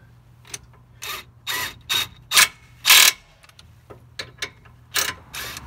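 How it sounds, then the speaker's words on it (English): A ratchet tightens 21mm bolts during a 2-inch off-road lift install on a Ford Transit, giving bursts of loud, close clicking in irregular short runs separated by brief pauses. "And reinstall these 21mm bolts."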